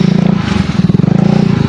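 A motorcycle engine labours loudly and close by on a steep trail, its rough, pulsing drone throbbing steadily throughout.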